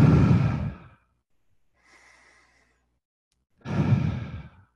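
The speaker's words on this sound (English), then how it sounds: "we'll start with three deep breaths." Deep audible breaths during a short guided meditation for calming down at home: a long exhale, a faint quiet breath in the middle, then another full exhale, each close and alone with no talk.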